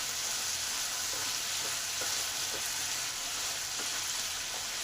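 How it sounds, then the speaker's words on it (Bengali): Potatoes with turmeric and salt fry in a pan for a tale momo recipe, making a constant soft sizzle with faint crackles, moderately quiet and with no voices. "যাতে আলুগুলো ভালোভাবে সেদ্ধ হয় আর ভাজা ভাজা হয়।"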